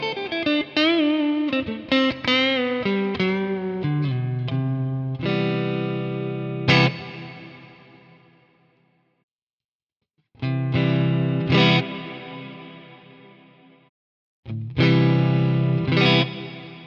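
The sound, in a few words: modulated reverb effect on guitar, Nano Cortex pedal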